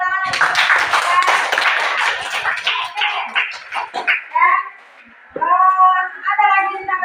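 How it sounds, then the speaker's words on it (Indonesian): Students in a classroom clap their hands in a brief burst that fades, with voices talking over and after the clapping. "Oke, kasih tepuk tangan lagi."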